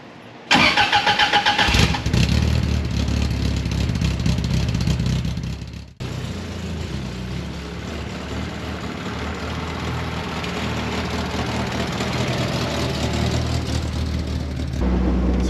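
A Fiat 124 Spider engine cranks briefly and catches, then settles into a steady, close idle that carries on alone without talk for the rest of the clip.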